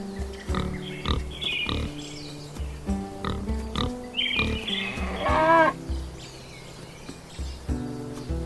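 Cattle moo and grunt repeatedly at close range while oxen plow a miniature farm field, calls coming in irregular bursts with brief pauses between them and some higher squealing sounds mixed in.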